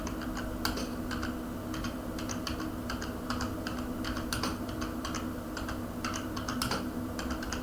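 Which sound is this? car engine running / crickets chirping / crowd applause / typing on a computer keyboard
typing on a computer keyboard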